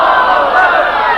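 Loud crowd chanting a religious slogan in unison, a sustained roar of many voices responding together at close range at a religious gathering.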